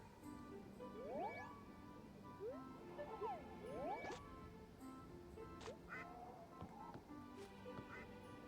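Duck quacks from the Harvest Moon Animal Parade farming game, short repeated calls scattered over a busy game soundscape with chimes and effects, moderately loud throughout.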